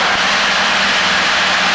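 A light aircraft engine drones at full power during a flight lesson, a loud, steady, close hum from inside the cabin, with no talk.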